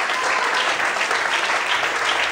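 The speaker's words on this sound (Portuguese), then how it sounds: "Você pode aplaudir o Senhor?" A church congregation claps together during a pastor's sermon, a dense, continuous burst of applause filling the whole short stretch.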